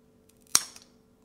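Scissors snipping a pothos stem into a single-node cutting, one crisp, close snip against a quiet background, with no talking.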